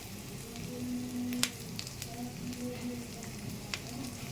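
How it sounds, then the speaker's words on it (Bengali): Bay leaf, broken green chilli and spices frying in a kadai, a continuous crackling sizzle with sharp pops and a brief metallic stirring tone, no voices. "মশলা ভাজা হয়ে গেছে"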